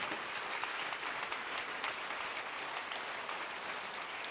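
A church congregation in Côte d'Ivoire gives God a standing acclamation, a steady roar of many hands clapping together, heard faintly and from a distance, with no clear voices over it.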